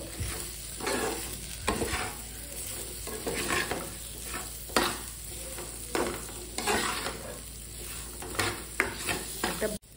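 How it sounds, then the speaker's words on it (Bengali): Spiced khichuri with garam masala and green chillies being mashed and stirred in a pot, giving steady scraping and soft squelching strokes over a faint sizzle, repeated with irregular rhythm and no talking. "আমি এটা ভালো করে ম্যাশ করে গরম জল দেব"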